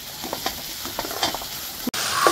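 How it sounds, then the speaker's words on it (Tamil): Homemade ginger garlic paste sautéing in a hot pan, a steady close sizzle with scattered stirring scrapes, a brief break near the end before the frying hiss returns brighter. "இதோட பச்சை வாசனை போகிற அளவுக்கு நல்லா வதக்கிடுவோம்"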